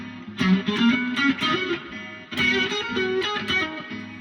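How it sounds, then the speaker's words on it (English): A singing voice drenched in heavy reverb, the notes smearing into a long wash that trails after each phrase, with no accompaniment. "Bad choice of reverb for this."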